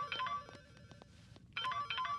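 A mobile phone ringtone sounds for an incoming call in a Hindi-dubbed comedy scene: two short bursts of a bright electronic ring pattern separated by a brief quieter gap, soft and somewhat distant.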